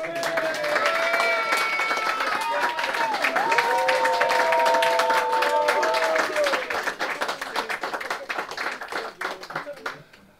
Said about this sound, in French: Et vous avez le droit d'applaudir.